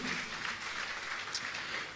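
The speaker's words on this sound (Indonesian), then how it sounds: "Berikan tepuk tanganmu, haleluya." A church congregation claps in steady, continuous applause at a prayer and fasting service, dense and moderately loud for the full stretch, without speech.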